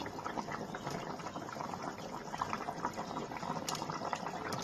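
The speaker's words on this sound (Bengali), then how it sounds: "এবার আমি ডিমগুলোকে ওর মধ্যে দিয়ে দেবো ডিমগুলোকে দিয়ে দিচ্ছি" Fish roe fritters drop into a simmering potato curry, with steady soft bubbling and low liquid sizzle throughout and no clear separate splash.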